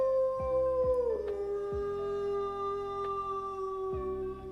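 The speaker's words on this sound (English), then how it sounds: "I love the howl." A dog howls in a long, sustained wail, with a lower whining layer pulsing underneath, fairly close and unbroken by talk.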